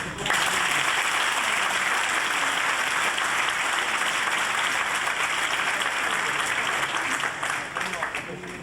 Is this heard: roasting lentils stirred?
no